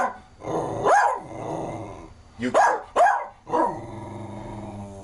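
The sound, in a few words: dog barking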